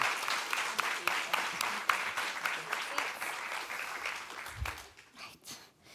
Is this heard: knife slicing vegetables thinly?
no